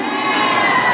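A concert crowd at an arrocha show screams and cheers loudly for about a second, a dense sustained roar of many voices.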